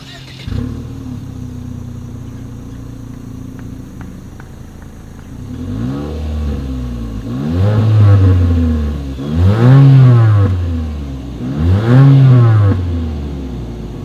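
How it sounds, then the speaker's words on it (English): A 2020 Mitsubishi Eclipse Cross exhaust, heard close as the engine idles, then three rising revs in a row, each climbing and falling away before settling back to idle. "As always, here is that exhaust clip."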